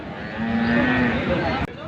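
A cow moos in a long, low drawn-out call amid a noisy crowd of chatter and background commotion at a cattle market.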